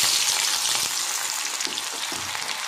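Onions hit a hot pan after fenugreek seeds have been fried and removed, and a bright, loud hiss of frying carries through with a few soft knocks of stirring.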